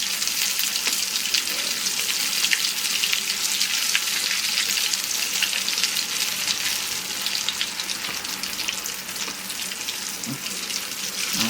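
Paneer pieces deep fry in hot oil with a constant dense crackling sizzle, close and even, flecked with tiny pops throughout and no voices.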